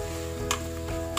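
Chopped tomato frying in a pan for dum vangibath, a steady close sizzle with two sharp spatula clinks against the pan.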